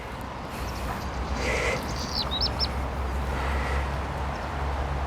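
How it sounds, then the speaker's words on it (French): Small bird chirping outdoors on a cloudy day, a few brief high tweets over steady low ambient rumble, moderately near with no talk. "Le petit oiseau qui est là."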